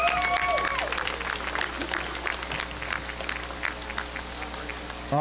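Scattered clapping from a crowd for a high school jazz band at an outdoor band concert, a crackling patter of hands that stays moderately loud throughout.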